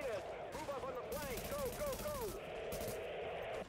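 Gunfire in the video game The Division rattles on continuously, with repeated rapid shots layered over a dense, loud battle din and overlapping voices, easing slightly toward the end.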